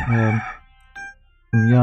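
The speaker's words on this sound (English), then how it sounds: "hopefully you can't hear those blasted roosters out there." A neighbour's rooster crows loudly nearby in two strong, harmonic cock-a-doodle-doo calls, with a brief softer sound between them.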